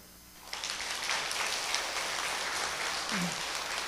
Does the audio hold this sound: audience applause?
yes